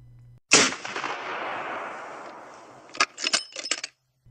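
A single sniper round fired in the video game Splinter Cell Blacklist: one sharp, loud crack with a long fading tail, followed by several quick metallic clicks and clatters of the rifle's action.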